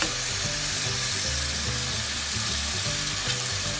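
Squid cooking in coconut milk in a pan, a dense continuous sizzle and splatter with stirring, loud and close, no talk.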